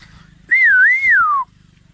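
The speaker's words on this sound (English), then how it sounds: "You just whistle." A single loud, clear human whistle, rising and wavering then gliding downward for about a second, blown to hail a ride on a street in Angola, close and alone over faint background.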